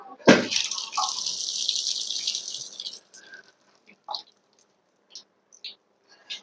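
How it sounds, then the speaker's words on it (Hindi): Boiled food poured from a pot into a kitchen colander: water gushes through in a loud close rush for about three seconds, then thins to scattered single drips falling at irregular intervals. "हम इसमें निकाल लेते हैं झरने में, क्योंकि अच्छी तरीके से निकल जाएगी। तो इसमें पानी नहीं रुकता है बिल्कुल भी।"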